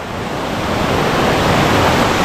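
Continuous broadband rush of a waterfall in a small oasis ringed by rock walls, loud and steady for a couple of seconds, with no voices.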